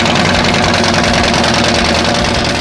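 2015 Harley-Davidson Heritage Softail Classic fitted with Vance and Hines long shot exhausts idling close by, a loud, steady, throbbing rumble filling the whole stretch with no talk over it.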